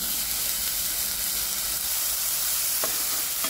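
Chopped onion sizzles steadily in a hot pan with oil for a spinach chicken curry, a loud continuous frying hiss with a brief stirring scrape near the end and no talking.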